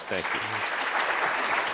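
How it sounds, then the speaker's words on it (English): Audience applause for a panel at a university health care reform seminar, a steady broadband clatter of clapping filling the clip, with a brief spoken word at the start. "Let's give our panel a round of applause."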